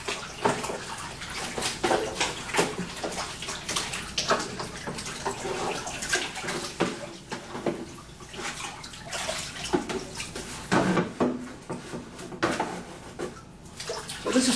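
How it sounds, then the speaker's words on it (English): Water splashing as plastic splash pans are rinsed with a sponge in a studio, a steady running, sloshing wash with scattered drips and splashes continuing throughout. "I'm going to give them a rinse."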